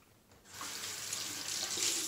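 A bathroom tap runs to wet a razor blade during a shave, a steady splashing stream that swells in after a quiet start and continues close by.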